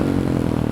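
A motorcycle engine runs steadily while being ridden on slippery, wet roads in bad weather, a close, continuous low rumble with some clattering texture and no speech.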